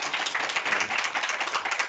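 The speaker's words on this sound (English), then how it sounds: "So you deserve a big round of applause." A room full of participants and judges at a university IT code fair claps in a brief, dense round of applause, close and evenly sustained.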